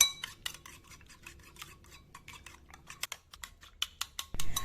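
Eggs being beaten with a utensil in a bowl for a children's omelette, giving a quick, irregular run of light clinks and taps against the bowl, close and fairly soft, ending with a louder clatter.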